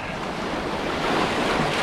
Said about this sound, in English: Of course, the waves are coming in now.